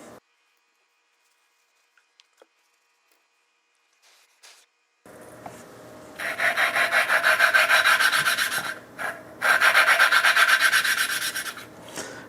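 Valves on a 1974 Honda CB350F engine are lapped with compound, making a rhythmic gritty rasping that starts after a few quiet seconds of small taps, pauses briefly, then resumes at a steady pace, close and alone.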